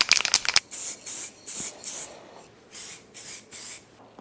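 Spray paint goes on in a light coat over rear brake parts from an E46 BMW 330ci, in about six short hissing bursts with pauses between them, close and fairly loud.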